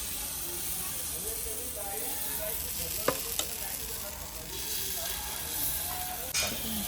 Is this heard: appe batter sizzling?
yes